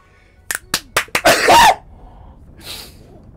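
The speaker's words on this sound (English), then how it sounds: "I'm gonna sneeze" A few quick, sharp inhales build up, then one loud, explosive sneeze close to the microphone, followed by quiet breathing.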